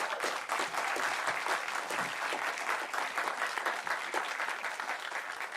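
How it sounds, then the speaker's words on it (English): Sustained audience applause at an Economic Development Committee public meeting, a steady wash of many hands clapping from start to finish, moderately loud with no talk over it. "Walker, hold your applause."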